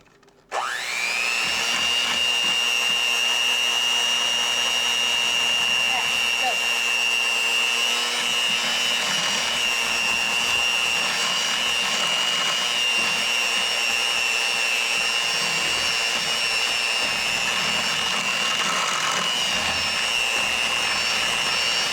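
An electric mixer whirs steadily as it beats German chocolate cake batter, starting abruptly and holding a loud, constant motor drone throughout with no talking.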